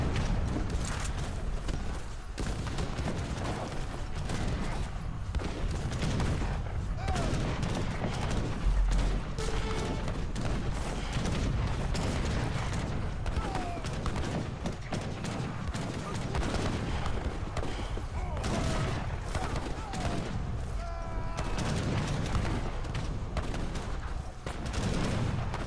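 Battle din from Age of Empires 3, with howitzers shelling an enemy base amid dense, continuous rumbling gunfire and explosions, a constant loud wash of overlapping combat sounds.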